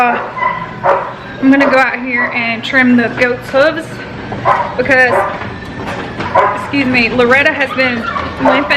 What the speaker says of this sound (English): I wanted to say I'm sorry for the dog barking in the background.